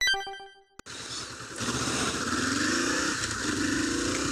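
A Honda CL500 motorcycle, effectively a 400cc-class twin, pulls away on city streets, its engine rising in a steady, close revving drone as the throttle opens after a short electronic chime.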